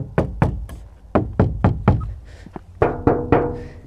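Knuckles knocking on a van door lined with Kilmat sound-deadening mat, about a dozen dull, damped thuds in uneven groups, close and alone without talk.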